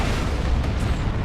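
A lascannon firing in the Dawn of War II: Retribution strategy game, a heavy booming blast that rumbles and fades over about a second, with no talk.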